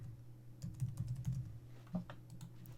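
Typing on a computer keyboard comes as quick, light, irregular clicks in short clusters, close and fairly soft over a low steady hum.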